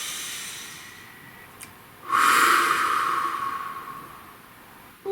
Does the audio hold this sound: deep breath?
yes